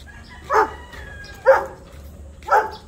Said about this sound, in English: There is dog in the store.